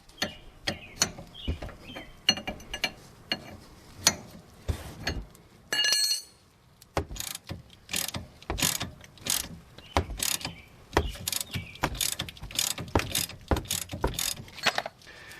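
A ratcheting wrench loosens the inner tie rod nut on a 2010-2016 Buick LaCrosse or Chevy Impala, giving close, rapid bursts of clicking with short pauses and metal clinks, and no talk.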